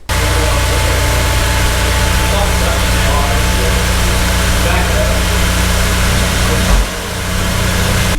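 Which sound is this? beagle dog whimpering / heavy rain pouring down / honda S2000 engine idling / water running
honda S2000 engine idling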